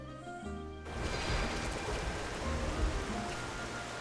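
Steady broadband rain hiss from Xenoblade Chronicles fills the scene after a brief quieter musical moment, continuing evenly at moderate level without talk.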